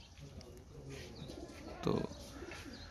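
Pigeons kept by a hobbyist coo softly in the background, faint and partly masked by room noise, while someone talks briefly.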